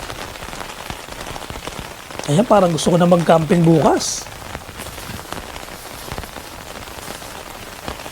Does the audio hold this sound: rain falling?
yes